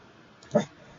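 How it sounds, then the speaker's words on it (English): A dog gives a single short whimper in the background of a quiet indoor room, a brief faint cry lasting under a second. "Pardon my dog in the background there."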